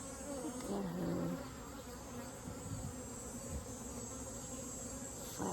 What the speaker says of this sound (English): Flapping her wings.